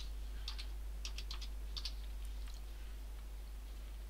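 Keys tapped on a computer keyboard while typing a file name, a short quick burst of faint clicks in the first two seconds, then only a steady low hum.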